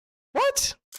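A single sharp sneeze from someone near a livestreaming gamer, a short voiced burst followed by a hissing breath, with a brief spoken word right after.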